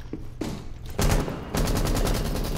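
Rapid automatic gunfire in the Rainbow Six Siege PC game during an esports match, starting with a couple of faint shots, then loud sustained bursts of fast machine-gun fire, with no talking.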